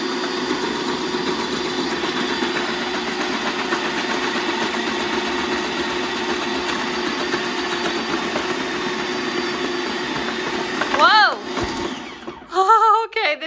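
A Bonnor electric vegetable slicer slicing vegetables into a bowl, giving a steady, fairly loud motor whir and drone that holds for most of the stretch, then breaks into a few brief squealing, rising-pitched bursts near the end.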